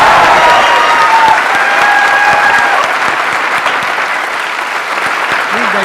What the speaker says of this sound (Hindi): एक्चुअली हमें उनके लिए आज स्पेशली तालियां बजानी चाहिए